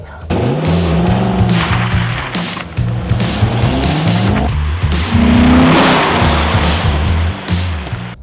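An American 5.7-liter V8 car accelerates hard and close, its deep engine note rising and falling through several revving pulls with a shift-like break around the middle, loud and continuous with no talk.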